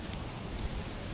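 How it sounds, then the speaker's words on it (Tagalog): Steady broadband wind rushing outside a house in the afternoon, a continuous even roar with no distinct gusts or other sounds standing out. "Yan ang hangin."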